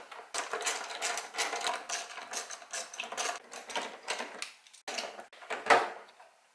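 Nuts and screws being worked off the engine cover of an Infiniti G37, a dense rapid ratcheting clatter in bursts with brief pauses, close and loud, ending in a sharper metallic clunk.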